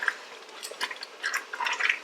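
Hot water simmering and bubbling in a water bath canner after peach canning, a steady busy hiss of small pops and drips filling the moment with no one talking.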